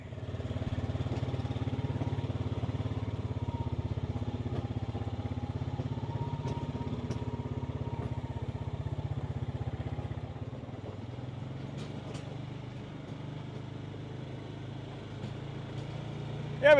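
Small Pioneer utility vehicle engine running steadily nearby, a constant low drone that eases slightly partway through, with faint clicks and knocks around it.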